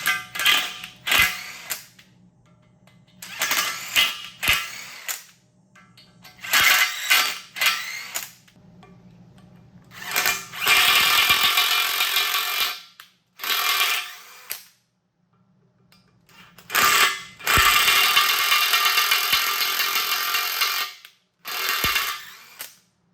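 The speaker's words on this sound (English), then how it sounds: "Found a good size wire wheel for these holes" A drill spins a wire wheel to clean out holes in a Triumph TR6 engine during a rebuild. The harsh, scratchy whirring comes close up in short bursts and longer runs, with silent pauses between them.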